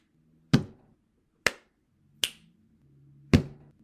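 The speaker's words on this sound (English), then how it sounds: "Clap, snap, hit the desk." Four sharp percussive hits, a clap, a finger snap and taps on a desk, spaced in an uneven rhythm at close range with faint room hum between them and no talking.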